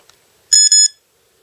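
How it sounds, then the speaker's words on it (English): Action camera giving a double beep as recording stops: two short, bright, high-pitched electronic tones in quick succession, close and clear in an otherwise quiet setting. "single beep to start recording, double beep to stop recording"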